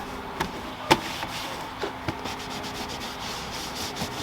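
A cloth is wiped over plastic and rubber car trim with a dressing product, giving a close, steady rubbing swish with a few soft knocks and scrapes, continuous and fairly quiet, no voices.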